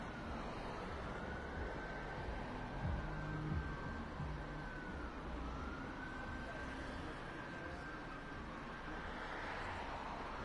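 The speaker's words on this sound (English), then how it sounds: "All right, now, here's some sirens here." Police sirens wail faintly in the distance during a Cranston police ride-along following a stolen car chase, a slow rising and falling tone over low rumbling traffic noise.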